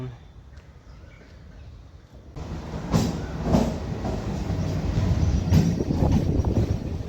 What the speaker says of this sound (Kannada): ಅಟ್ ಲಾಸ್ಟ್ ಟ್ರೈನ್ ಬಂತು ಗೈಸ್